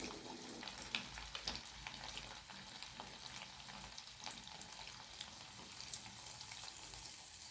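Batter sizzles and crackles steadily in hot oil as Chettinad moong dal paniyaram fry, a continuous close-up hiss with no one talking.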